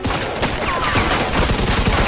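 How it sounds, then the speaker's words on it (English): Rapid bursts of gunfire from above in Mafia II, a dense, loud fusillade of overlapping shots that continues without a break through a short gunfight. "Watch out! They shoot from up top!"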